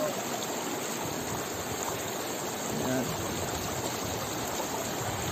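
Steady rushing water pours and splashes over rocks at a water refill spot near Busay Falls, a constant broadband wash close by with no breaks.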